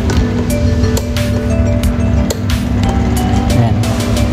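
A repaired wall fan with a stuck rotor runs steadily at high speed, a close, continuous whooshing hum with a low tone, while someone talks over it.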